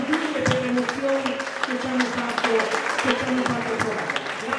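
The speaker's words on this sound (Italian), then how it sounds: "e un applauso anche per Candida Marsiglio" An audience at the 2016 Meda show Guardando il Cielo applauds the performers, a steady wash of clapping over the whole stretch with sustained musical tones running underneath.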